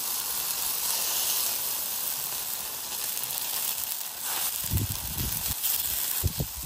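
Jalapeno and onion set cut side down on a hot oiled griddle give a continuous bright sizzle and hiss, with a few soft clunks and taps of food and utensil toward the end.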